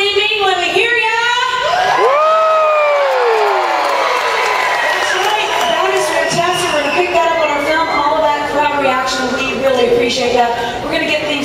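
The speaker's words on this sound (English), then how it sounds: "I want you to go nuts cheering and clapping and screaming" A theme park stunt show audience at Disney's Hollywood Studios erupts in loud cheering, screaming and clapping, with high whoops and shouts from children and adults rising over a dense, sustained crowd roar.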